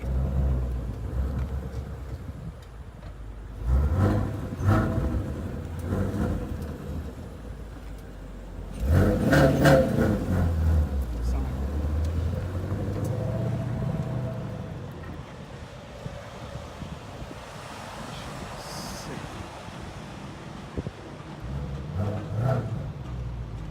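A car fitted with Eibach Pro-Kit lowering springs runs fast at around 78 on an open road, giving a steady engine and road rumble with two louder surges of revving near the start and middle.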